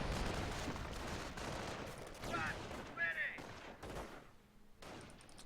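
Bursts of MG machine-gun fire in the World War II strategy game Company of Heroes crackle in rapid volleys amid battle noise, with a few sharp ricochet-like chirps near the middle.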